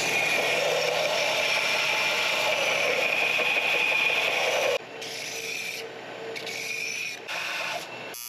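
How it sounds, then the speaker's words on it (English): Belt sander flattening a welded turbo pipe, a steady loud abrasive rasp that drops in level partway through and then stutters with short gaps as the part is worked against the belt. "We'll put this on the belt sander. Get it nice and flat."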